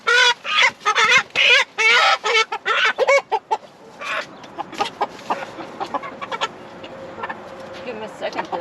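Meat chickens clucking and squawking loudly up close, a dense burst at first that settles into scattered softer clucks.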